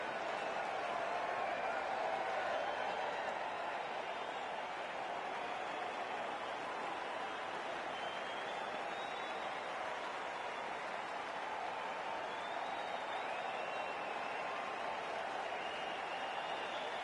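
Steady broadband stadium crowd roar from the Cricket 24 video game, a continuous wash of massed voices with a slight swell near the start and no breaks across the whole stretch.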